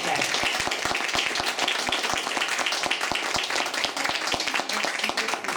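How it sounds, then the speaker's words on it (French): A conference audience claps for speaker Claire Bolduc, with individual claps distinct and sustained at a moderate level through the whole stretch and some voices mingled in. "je vais vous demander de l'applaudir chaleureusement la Claire Bolduc"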